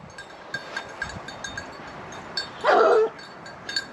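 A hunting dog on a wild boar hunt gives a loud burst of yelping and whimpering around the middle, with scattered faint yips before and after over outdoor background noise.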